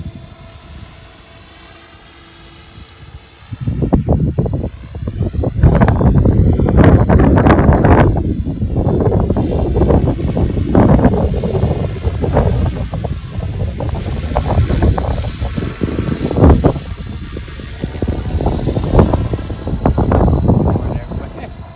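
Blade Fusion 360 Smart RC helicopter flying in gusty 24–28 mph winds, its rotor whine rising and falling alongside strong wind buffeting on the microphone, loud and continuous after a quieter start.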